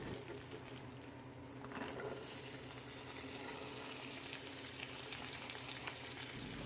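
Washed onion stalks frying in oil over softened onions, a low, steady sizzle and bubbling with faint stirring, quiet and close with no talking.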